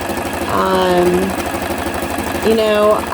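A sewing machine hums and rattles steadily while stitching Christmas tree quilt applique, with someone talking over the mechanical drone.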